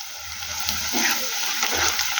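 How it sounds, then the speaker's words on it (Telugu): Onions and green chillies frying in oil for a goat tripe curry, a steady broadband sizzle with faint stirring scrapes and bubbling, close and even, with no talking. "ఆనియన్స్ పచ్చిమిర్చి వేగుతున్నాయి ఫ్రెండ్స్ ఆయిల్లో"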